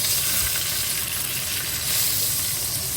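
Bacon-wrapped venison backstrap searing in a hot pan, a loud steady sizzle and hiss that holds evenly without pause.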